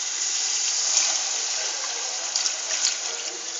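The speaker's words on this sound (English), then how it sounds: "See, we have added more water to the mixture." Water pours steadily into a kadhi pakoda mixture, making a continuous close hiss and splash that holds throughout with small surges near the end.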